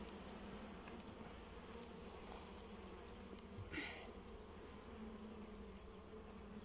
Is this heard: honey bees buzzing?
yes